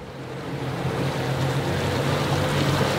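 A Valhalla V-46 boat runs on three outboard engines, giving a steady, loud engine roar mixed with rushing water and wind noise throughout, with no talking.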